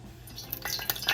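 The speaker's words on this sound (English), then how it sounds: "you can sprinkle it with a little water" Water is sprinkled into hot oil in a cast iron pot, giving a quick series of small sizzling spits and crackles over about a second.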